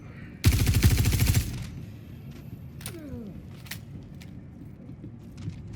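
Star Citizen gunfire: one loud, close burst of rapid automatic shots lasting about a second, followed by quieter distant pops, a falling whine and faint ambient noise.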